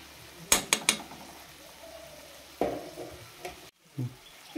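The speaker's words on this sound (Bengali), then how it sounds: "এইখিনি এতিয়া মিক্স কৰি ল'ম গোটেইখিনি ভালদৰে মিক্স কৰি ল'ম" Schezwan egg fried rice is stirred and mixed in a pan, giving soft scraping and sizzling with a few sharp utensil clacks near the start and a brief pause late on.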